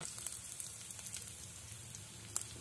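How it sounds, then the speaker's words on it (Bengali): Chopped onion and chili shallow frying in a pan make a steady, soft crackling sizzle with small pops throughout, and no one speaks. "এবার পেঁয়াজটা একটু জাস্ট শ্যালো ফ্রাই হবে, ততটুকু সময় আমাকে এটা নাড়তে হবে।"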